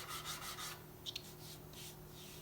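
Soft, flexible abrasive rubbed over the curved contours of a guitar body during luthier shaping, a steady broadband scratchy rasp in strokes, louder at first, then a couple of brief sharper scrapes near the middle before the rubbing continues more evenly.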